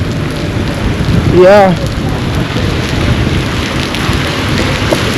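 Heavy rainy-season downpour in Sukuta, The Gambia, a loud continuous hiss of rain on surfaces, with a brief voice speaking over it.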